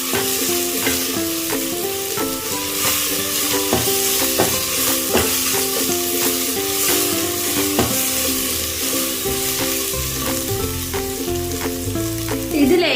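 Masala for a Kerala-style chicken curry fries and is stirred in the pan, a loud continuous sizzle broken by repeated scraping strokes of the spoon at a regular pace.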